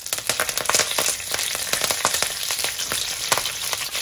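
Fresh curry leaves and a chilli hit hot oil with a close, busy sizzle, full of rapid pops and crackles that keep going throughout.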